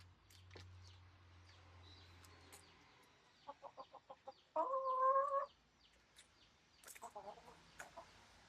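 Backyard chickens cluck close by in quick runs of short clucks, with one loud drawn-out squawk in the middle and another burst of clucking near the end.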